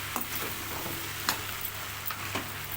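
Okra frying in a pan gives a constant sizzle, with a few soft scrapes and taps from stirring and no voices.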